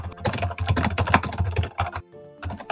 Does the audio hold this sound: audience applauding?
no